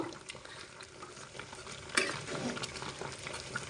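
Mango pickle with five whole garlic cloves stirred in a hot pan, a constant sizzle under scraping spoon strokes and one louder clank near the middle.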